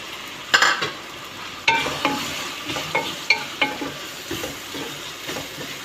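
Onions sizzling in hot oil in a pan while cooking gobhi chicken, a close, steady frying hiss broken by repeated scraping knocks of a spoon stirring.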